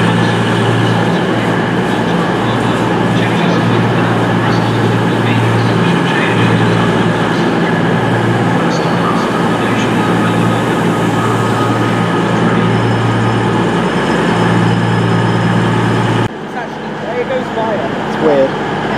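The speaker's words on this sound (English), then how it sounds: "We're arriving in now, it's the 1443 Southwest train service from London Waterloo to Poole" The 14:43 South Western service from London Waterloo to Poole pulls into Bournemouth station with a loud, steady rumble and rail noise that drops off abruptly near the end.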